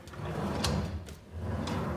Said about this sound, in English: Right below here we have some drawers for forks, for knives